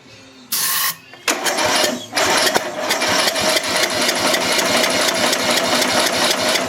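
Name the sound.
small engine running without carburetor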